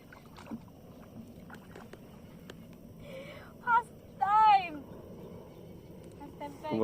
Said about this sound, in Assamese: কেনেকৈ নাও চলাইছে